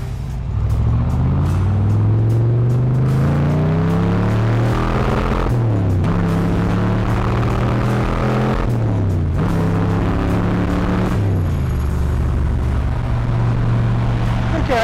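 A 1966 300 car's warmed-up engine revved hard toward the red line, loud and close, rising in pitch over several long pulls with brief drops back between them.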